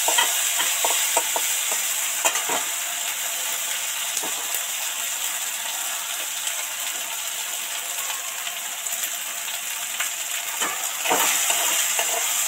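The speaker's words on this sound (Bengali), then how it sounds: "এবার এই মশলার মধ্যে কুচনো টমেটোটা দিয়ে দিচ্ছি, দিয়ে আরো 2-4 মিনিট নাড়তে থাকবো।" Chopped tomatoes sizzle steadily in hot oil with a fried spice mix and ginger paste. A utensil stirs them, giving occasional clinks and scrapes against the pan, close and continuous, with no talking.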